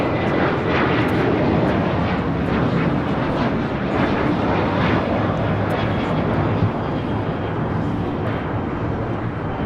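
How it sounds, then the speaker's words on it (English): An Alaska Airlines Boeing 737-800 taking off from LAX bound for Portland, a loud, continuous jet engine roar rumbling steadily from start to finish. "This is Alaska Airlines 1127 taking off to Portland on a 737-800."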